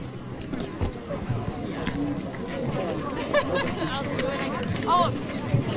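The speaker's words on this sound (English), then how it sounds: "Crowd is growing, hundreds and hundreds more." Large street protest crowd with hundreds of people, a dense hubbub of overlapping voices and chatter filling the scene at steady loudness, with scattered shouts rising above the babble.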